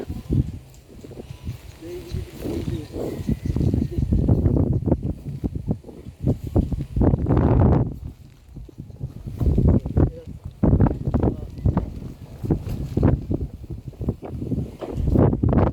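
Gusty wind roars across an outdoor microphone in uneven bursts while a person talks over it.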